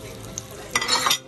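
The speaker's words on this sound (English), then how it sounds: "Sizzling fajitas." A soft sizzling hiss of fajitas on a hot pan, swelling louder near the end with some crackling bursts, no voices.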